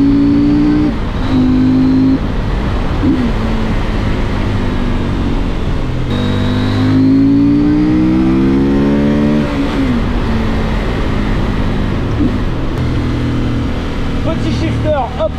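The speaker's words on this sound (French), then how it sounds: "Le moteur, quant à lui, il est super agréable à écouter, il ronfle bien" A CF Moto 800 MT motorcycle engine runs loud and close on a road test, revving up repeatedly in rising sweeps as it shifts through gears, with a steady drone between pulls.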